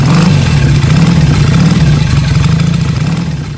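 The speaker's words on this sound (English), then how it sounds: "And as the engine coughed back to life," A motorcycle engine runs loud and close after a breakdown, its steady low rumble throbbing with rhythmic pulses as it idles and revs, gradually fading slightly toward the end with no talk over it.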